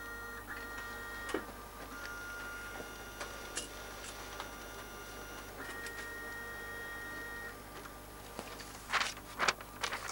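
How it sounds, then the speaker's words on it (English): A microfilm reader printer in a library runs quietly with a steady low hum, soft ticking and intermittent mechanical clicks, faint and fairly close, with no talking. "You can read and copy from the microfilm using these reader printers."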